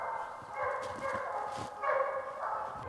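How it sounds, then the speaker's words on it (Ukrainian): Hounds chasing a fox bay and bark in the distance, their voices overlapping in a continuous, echoing chorus, in Kyiv Oblast. "гончі собаки женуть лисицю"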